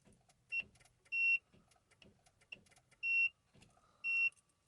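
Inside a Peugeot that will not start with a dead battery, the ignition is on and soft clicking and relay ticks repeat alongside four short, loud electronic beeps spaced roughly a second apart, with no one speaking.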